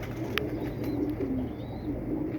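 Pigeons or doves coo in a low, steady murmur that runs throughout, with a few brief higher chirps scattered above.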